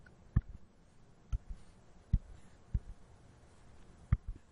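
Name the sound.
typing a polynomial into a graphing tool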